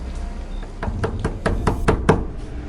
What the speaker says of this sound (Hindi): दरवाजे पर आवाज हुई।